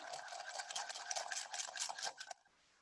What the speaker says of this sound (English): We're just going to whisk that together.